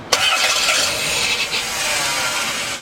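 A car engine cranks on the starter during a compression test with the spark plug hole fitted with a gauge: a steady, rapid whirring chug, close and loud, lasting a few seconds and then cutting off.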